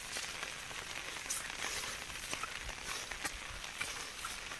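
Rain falls steadily in a soft hiss on a plateau in Sawarda, Ratnagiri, in the Konkan, with scattered drops tapping a nearby surface now and then.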